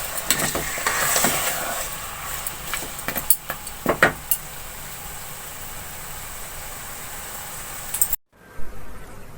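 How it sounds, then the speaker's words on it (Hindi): Boiled mutton being stirred in a frying pan for aloo gosht, with a steady broadband sizzle and several sharp scrapes and clinks of a utensil against the pan, then an abrupt cutoff near the end. "अब इसको मिक्स कर लेंगे।"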